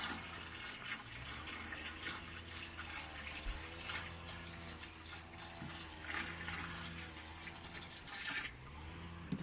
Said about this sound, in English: I'm going to deliver the water directly to the root.